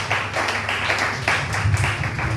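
A church congregation applauds the Lord, with steady, dense clapping from many hands carrying on throughout, fairly close and loud, with no talk over it.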